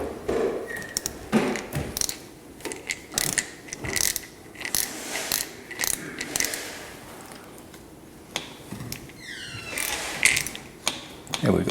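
A ratchet clicks in short bursts while tightening a bolt on a Nishiki bicycle during assembly, with rapid pawl clicks coming in quick, uneven clusters separated by brief pauses.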